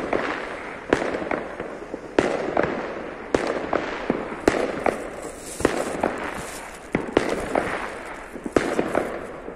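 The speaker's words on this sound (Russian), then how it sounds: "Фейерверки везде видишь, со всех сторон." New Year's fireworks in Bezhitsa pop and crackle repeatedly at a steady pace, some bursts nearer and sharper, others more distant, over a continuous hissing background.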